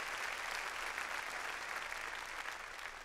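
Church congregation clapping loudly during a Sunday service, a dense, steady wall of applause that continues unbroken throughout with no pauses.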